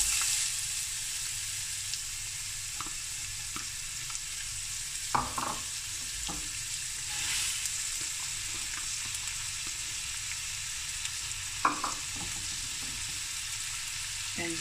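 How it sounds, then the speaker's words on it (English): Three chopped onions fry in hot oil in a pot, a steady crackling sizzle held throughout, with occasional clinks and scrapes of a utensil and no talking. "I got some oil in my pot heating up and I've got some onions. I chopped up three onions."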